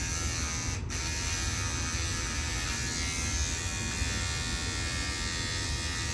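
An electric beard trimmer buzzes steadily up close while trimming facial hair along the lip line, a continuous even drone with one brief click near the start.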